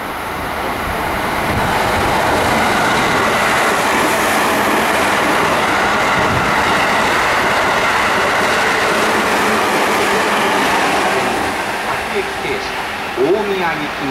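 A JR 211-series commuter train rumbles loudly through Warabi Station without stopping, steady clattering wheels ending in a brief wheel squeal, while Japanese platform announcements play over it.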